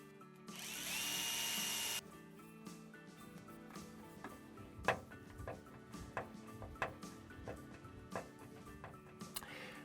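A power drill drives screws through an aluminium sliding shower enclosure profile into a bathroom wall: a loud, sustained whir at the start, then a series of short, sharp bursts and taps close by.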